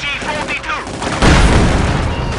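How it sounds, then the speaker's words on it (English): A brief stretch of voices gives way to a heavy, loud burst of machine gun fire and booming explosions in the video game Company of Heroes 2, rattling on to the end. "Oh wow, they have so many machine guns here"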